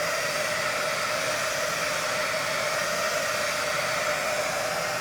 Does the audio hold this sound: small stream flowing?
no